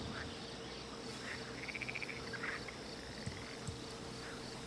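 Crickets chirping beside a pond in the medieval strategy game Manor Lords, a faint steady ambient drone with brief trilling bursts and a couple of soft distant knocks, fairly quiet and unbroken by speech.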